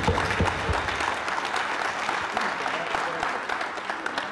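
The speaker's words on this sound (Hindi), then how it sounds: "आप खुद के लिए एक बार जोरदार तालियां बजाएं" A crowd at a community gathering honouring Corona warriors claps loudly, a dense, sustained burst of applause that fills the room without pause.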